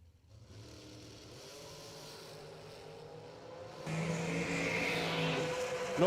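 Drag racing cars launch down the strip, engines droning in the distance, then a louder surge of roaring revs builds midway and keeps rising to the end.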